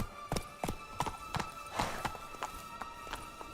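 Horse hooves clip-clop at a steady walking pace, about ten crisp, evenly spaced knocks close by over a faint background hum.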